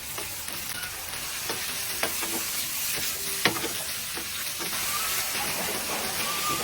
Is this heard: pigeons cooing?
no